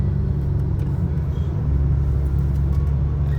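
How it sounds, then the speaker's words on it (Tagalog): Cars, mostly high-end models, drive along Al-Qudra Street at night, heard as a steady, close, loud low rumble of traffic with no talk. "Mga sasakyan dito halos mga high-end lahat."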